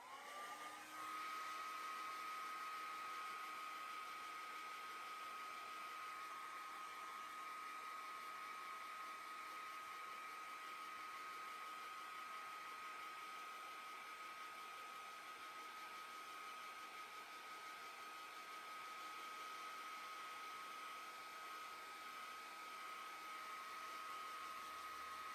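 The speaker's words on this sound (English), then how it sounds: "I'm going to go ahead and blow dry that." Hair dryer blowing on wet paint to speed drying, a continuous steady whine with a fixed tonal hum, running unchanged and fairly close for the whole stretch with no talking.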